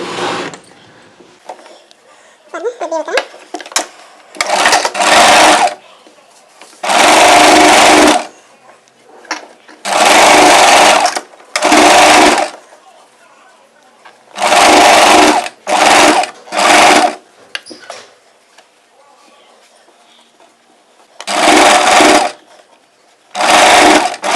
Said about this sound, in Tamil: ஒரு அடி அடித்து பார்ப்போம். தூரமான தையல் தான் வச்சுருக்கேன்.